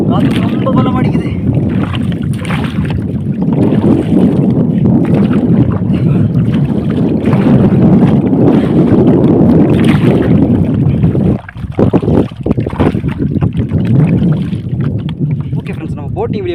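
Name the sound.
strong wind blowing during bamboo boat ride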